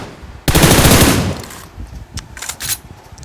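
Rapid bursts of automatic gunfire in a battle royale video game fight, one loud sustained volley followed by shorter, fainter bursts of shots.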